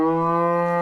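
A cow that has recently calved, on a livestock farm, lets out a single short, loud, close moo with a strong, steady tone.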